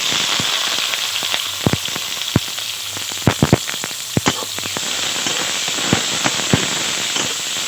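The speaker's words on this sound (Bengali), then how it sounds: "তেল খুব ভালো করে গরম করে নিয়েছি। ফোড়নে দিয়ে দেবো গোটা জিরে, হাফ করে চিড়ে রাখা 3টে কাঁচা লঙ্কা, আর দিয়ে দেবো পেঁয়াজ কুচি।" Whole cumin, three slit green chilies and chopped onion hit hot oil in a pan, giving a steady loud sizzle with sharp crackling pops scattered throughout, no talking.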